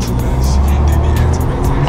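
A tuned VAZ 2107 Lada engine roars loudly and steadily while drifting in winter, with tire noise and occasional high squeals, close by, with a constant rumbling wash of road noise.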